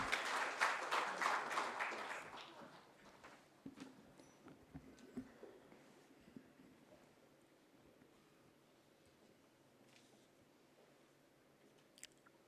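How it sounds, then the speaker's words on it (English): An audience at an inaugural session applauds the chief guest, the TRAI chairman, with a burst of clapping that dies away quickly into scattered claps and faint room noise. "Please give a round of applause."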